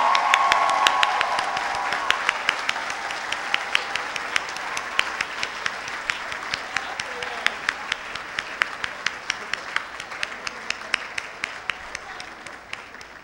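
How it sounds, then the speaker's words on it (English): A graduation crowd applauds its first group of diploma recipients with sustained, fairly close clapping that swells early and slowly thins out over about thirteen seconds, a few louder individual claps standing out. "Let's get out some of that pent-up applause."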